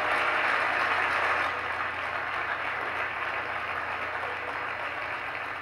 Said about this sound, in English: through way of applause, tell me how excited you are for us to launch these new programs next year